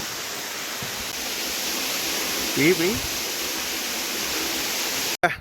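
Water gushes strongly at a farm well, a loud, steady roaring rush that fills the whole stretch. A short voice cuts in briefly partway through before the sound ends abruptly.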